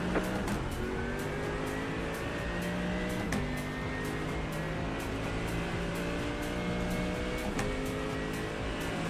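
Simulated race cars in the iRacing game roar around Sebring in light rain, engines climbing through gears and shifting with sharp breaks as AI cars run close by continuously.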